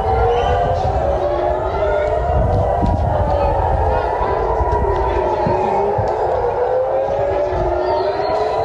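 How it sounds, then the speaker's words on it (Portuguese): Air raid sirens in Israel wail continuously, rising and falling in long overlapping sweeps, loud and steady throughout with a low rumble underneath. "São essas explosões que os moradores vão escutando, então, ó, e as sirenes tocando no mesmo momento."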